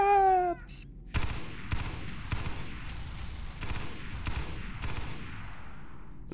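Repeated heavy gunshots in Halo SPV3, about seven sharp loud blasts spaced roughly half a second apart, each followed by a ringing decay, after a brief high-pitched electronic whine at the start.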